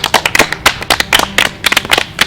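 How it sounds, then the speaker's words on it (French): An audience applauds a 12-year-old boy, Antoine, after a challenge on a French junior survival show, brisk clapping from a small group, close and lively, with uneven claps throughout. "j'aimerais qu'on applaudisse"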